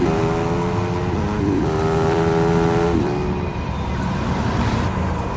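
A creature vehicle drives in the Spore video game, giving off a steady, loud synthetic engine tone with stacked harmonic layers that rise and shift in pitch, then settles into a continuous whirring drone.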